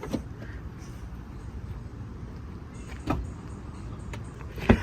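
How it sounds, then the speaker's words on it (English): A 2025 BMW M4 Competition's automatic rear hatch operates with a steady, low mechanical whirr and a couple of soft clunks, heard close up with no talking. "the automatic rear hatch, which is kind of nice"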